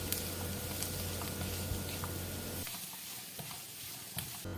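Onions with turmeric, coriander powder and chili powder sautéing in a pan for a Kerala-style beef curry, a steady close sizzle with faint stirring scrapes, easing off slightly partway through, with no talking.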